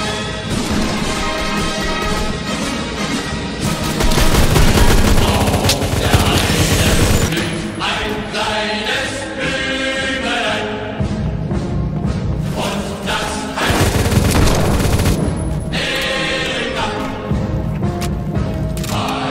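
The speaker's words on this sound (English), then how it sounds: "It's a machine gun!" Dense, loud, continuous bursts of automatic gunfire fill a World War Two themed round of the Roblox shooter Phantom Forces, with rapid overlapping shots and occasional heavier booms close by.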